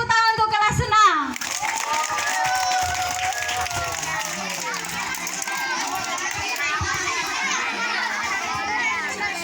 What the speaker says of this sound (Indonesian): beri tepuk tangan untuk kelas 6